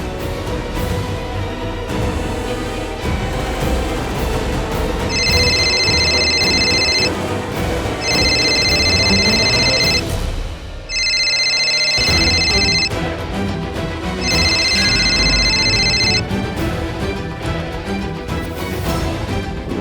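An electronic ringtone repeats in four evenly spaced bursts over steady background music, loud and continuous.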